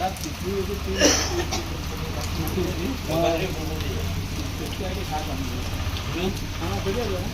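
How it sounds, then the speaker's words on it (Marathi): Rain hisses steadily in the background while several people talk and call out nearby during a Ganesh idol homecoming procession. "पाऊस पडतोय"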